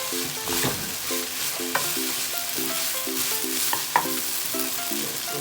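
Chicken and prawn fried rice sizzling and being stirred in a hot pan as light soy sauce goes in, with steady frying hiss and repeated scraping stir strokes.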